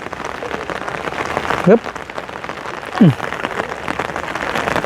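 Steady rain falls on a hard surface in a rural outdoor setting, a dense constant patter with two brief rising vocal grunts breaking through, and a person close by.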